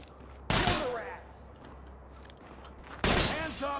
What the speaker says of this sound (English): I might have shot that guy dead.